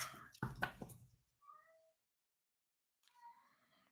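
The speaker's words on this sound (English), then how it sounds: "Do you hear my cats?" House cats meow briefly at moderate distance, with a couple of short, tonal calls following a burst of loud rustling and knocking, then a soft voice murmuring afterward.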